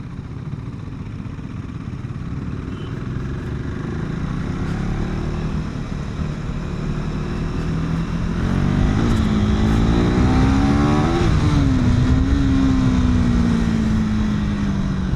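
Honda CBR 250R motorcycle engine heard on the move through corners, a continuous droning engine note with wind noise that climbs and wavers in pitch as the rider revs, growing louder toward the end.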